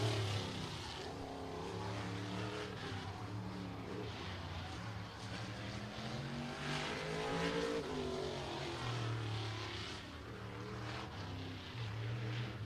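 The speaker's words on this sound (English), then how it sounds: "Ronnie Basham in the 86 car making his way through the oval section, turns 1 and 2." A race car, the 86 car, running through turns one and two of the oval section at Showtime Speedway in Pinellas Park, Florida, its engine droning steadily with rising and falling pitch at moderate distance, faint and continuous.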